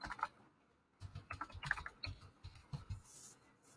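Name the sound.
typing on a computer keyboard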